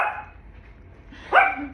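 Two short, close barks from a small dog come about a second apart, with near silence between them.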